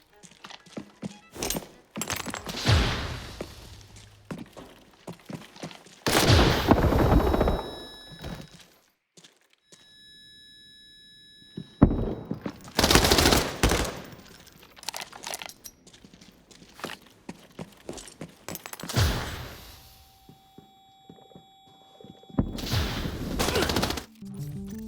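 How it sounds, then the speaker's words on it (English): A flashbang that detonates twice, plus gunfire, in the video game Arena Breakout: Infinite, heard as several loud, sharp bursts spaced a few seconds apart with reverberant tails and quieter gaps between, no voices. "this is a flashbang that actually goes off twice"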